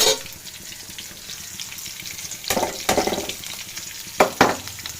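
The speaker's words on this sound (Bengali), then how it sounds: "মাছটা ছেড়ে দিলাম। মাছটা একটু ভেজে নেব।" Fish dropped into hot oil already frying with green chillies, onion, garam masala and bay leaves, giving a steady close sizzle that swells into louder crackling bursts in the second half.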